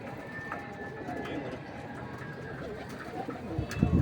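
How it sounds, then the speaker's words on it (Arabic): Soft cooing of pigeons over a low rumbling background, with a few brief louder bursts near the end. "بص الحمام جاي من ورا اهو"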